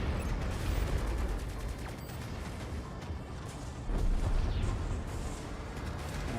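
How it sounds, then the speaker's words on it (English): Gunfire and rockets in the space combat video game Strike Suit Zero, heard as dense, continuous rattling bursts and booms with a steady roar, loud and busy throughout with no talk. "You can hit the fighters with the gunfire rockets, and they are pretty effective."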